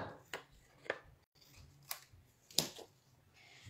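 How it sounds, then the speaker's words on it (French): Scissors snip through paper for a wild-garden scrapbook layout, several separate crisp cuts spaced out at close range with no talking. "C'est mes ciseaux qui vont s'en occuper."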